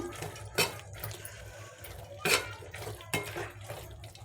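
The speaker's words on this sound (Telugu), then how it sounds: "కొద్దిగా వాటర్ వేసుకుందాం ఇప్పుడు" Water goes into a pot of toor dal and broad bean pulusu in a few splashing, sloshing bursts at close range, with no talking.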